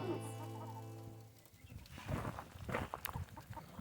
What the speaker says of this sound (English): So today we're out here feeding the chickens on a Saturday morning